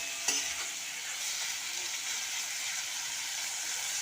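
Tomatoes and green chillies fry in a pan for an egg-and-dal dish, giving a steady close hiss of sizzling oil, with a brief stirring clatter near the start and no talking.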